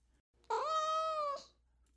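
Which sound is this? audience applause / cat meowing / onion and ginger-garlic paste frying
cat meowing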